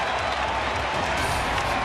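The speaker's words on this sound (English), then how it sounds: "Crowd loving the effort tonight from Cease and the offense." A baseball stadium crowd at a Twins vs White Sox game cheers and applauds in a dense, steady roar, with an announcer's voice partly over it.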